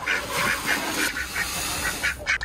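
Ducks or geese kept as a neighbor's pets honk and quack in a steady string of about ten calls, fairly close and loud, with no talking.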